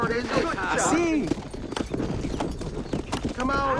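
Horses ride in Red Dead Redemption on Xbox 360, hooves clip-clopping in a steady rapid rhythm under loud, overlapping voices from the game.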